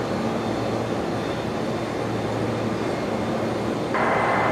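A Singapore Airlines flight 245 airliner lands on Brisbane Airport's new parallel runway 01 left under stormy cloud cover, giving a loud, steady, continuous roar with no talk; a brighter hiss joins near the end.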